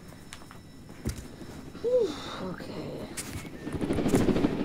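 A helicopter in the Roblox game Jailbreak whirs as a steady low rotor drone that swells louder toward the end, under a player's brief talk and scattered game sounds.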